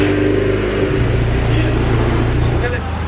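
A 2020 Vanderhall open-top car drives through Monaco toward the port, its engine and road roar loud and steady up close, with people talking over it.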